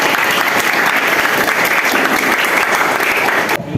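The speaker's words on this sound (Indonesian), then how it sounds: "Berikan tepuk tangan lagi buat Nanda." A classroom audience gives a burst of steady, dense applause for a student named Nanda during a teacher training lesson, the clapping continuous and fairly loud before stopping abruptly near the end.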